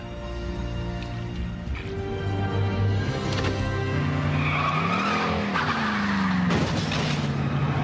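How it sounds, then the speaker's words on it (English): A car engine starts and pulls away, rising in pitch with tires squealing and skidding as it accelerates, loud and close throughout with no talking. "Let's start this car up."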